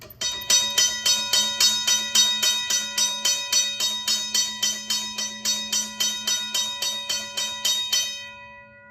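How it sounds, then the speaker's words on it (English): A restored RACO mechanical bell powered by a 12-volt battery strikes rapidly and steadily, around three times a second, each ring bright and metallic, then stops and the tone decays somewhat dampened. "we will be testing this bell right now on various speeds"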